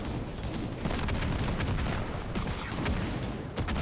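Sniper fire and battle noise in the Halo Wars 2 strategy video game, repeated sharp cracks and booms over a dense, continuous layer of combat sound, no talk.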